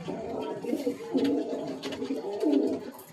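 A female pigeon held in the hand with a wing caught, giving soft repeated low coos close up against quiet background noise.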